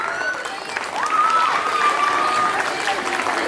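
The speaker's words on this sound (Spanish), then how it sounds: "Un fuerte aplauso para Máximo también." Applause from an audience at a school ceremony honoring circus students, a steady wash of clapping with a voice partly audible over it and a whistle-like tone drifting through the middle.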